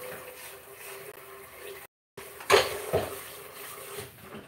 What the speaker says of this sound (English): It's always important to wash your Vitamix or your blender as soon as you're done using it